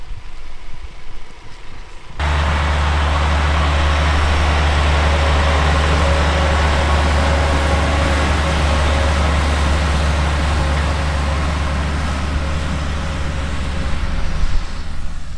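Farm vehicle passing through a canola field, a loud steady engine drone with heavy low rumble that cuts in abruptly and holds constant, swelling slightly near the end as it draws level, alone with no voices.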